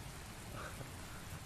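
Rain falling in the Tales of Berseria video game, a dense, even hiss of pattering drops that stays steady throughout without any break.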